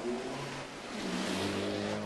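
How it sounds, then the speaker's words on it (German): A 2016 VW Golf Cabriolet accelerates from lower speed with a gruff, throaty exhaust note, the engine tone rising steadily as revs climb, heard from inside the car as a continuous hum. "Beim Beschleunigen aus niedrigeren Geschwindigkeiten ist das etwas kernige Auspuffgeräusch mitbestimmend"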